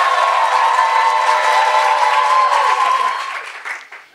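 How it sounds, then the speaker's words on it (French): A full hall of spectators claps loudly and steadily at a thesis-in-three-minutes competition, holding a dense wash of applause before fading out near the end. "Les applaudissements pour Aimé"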